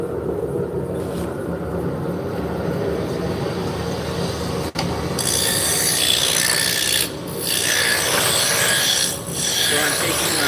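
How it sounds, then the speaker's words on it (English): Roughing gouge cutting into a spinning piece of wood on a lathe, a loud continuous rasping scrape, close up, quieter at first and then heavy and steady with a few brief pauses. "this is my roughing gouge. I'm just taking material off."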